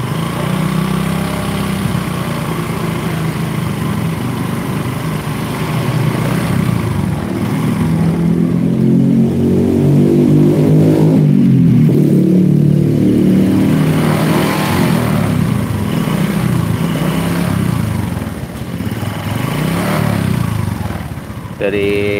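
A motorcycle engine revs with a droning hum and loud metallic knocking, suggesting a loose piston, rising and falling under throttle; loud and close, with voices talking over it.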